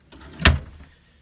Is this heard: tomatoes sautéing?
no